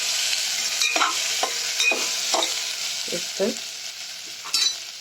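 Onion, garlic and spices sauté in a pan for mung dal khichdi, a steady hiss of frying punctuated by several scraping stirs of a spatula, close up and without voices.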